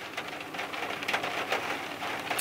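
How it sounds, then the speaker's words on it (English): Rain falling outside, a soft steady patter and hiss of drops on surfaces, moderately quiet and continuous with a few louder splashes and no voices. "It's rainy and disgusting here"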